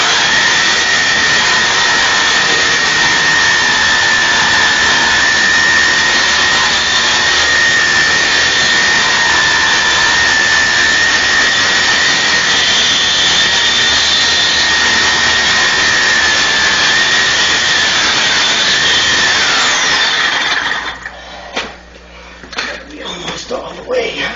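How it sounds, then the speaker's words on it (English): Sawzall reciprocating saw cutting through cast iron drain pipe, a loud continuous buzzing grind that runs about twenty seconds before stopping abruptly, followed by quieter clatter. "Much rather use the sawzall than the chop wheel."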